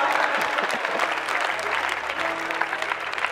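A church seminar audience breaks into loud, sustained clapping and cheering from a crowd, steady throughout with a voice or two faintly heard underneath.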